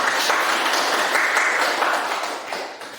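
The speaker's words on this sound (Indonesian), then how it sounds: "mari kita sama-sama memberikan tepuk tangan untuk kita semua" Loud applause from an audience at a school gathering, a thick continuous patter of clapping hands close by, holding strong and then fading toward the end of three seconds.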